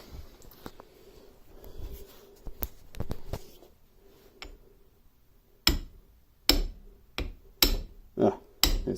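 A bolt resting on a vise takes a run of sharp metallic hammer strikes, sparse and uneven at first under low talk, then louder, evenly spaced blows near the end.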